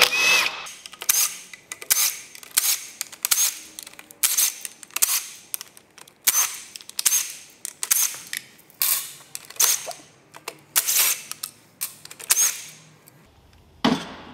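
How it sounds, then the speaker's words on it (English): Torx T30 bit backing out the side cover bolts on a BMW dual clutch transmission, giving a long run of sharp, close mechanical clicks and ratcheting bursts in steady rhythm, with no talk. "Next, we're going to take a T30"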